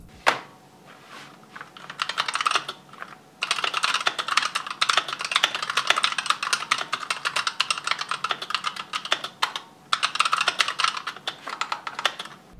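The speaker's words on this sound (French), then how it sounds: "Le ressenti global au niveau de la frappe, à nouveau, c'est très similaire avec du clavier mécanique" Rapid typing on an ASUS TUF Gaming K7 optical keyboard, with dense bursts of crisp key clicks and brief pauses between runs, close and clear.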